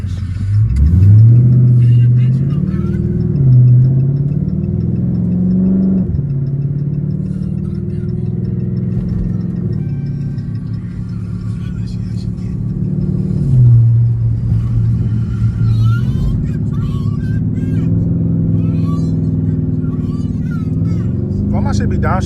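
A car engine rumbles steadily while driving, its pitch rising and then dropping sharply as the transmission downshifts, loud and close from inside the cabin, with someone talking over it.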